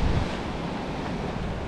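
Ocean surge washes steadily into a rocky boulder-strewn island bay, a continuous close roar of breaking water with wind buffeting the microphone and no voices.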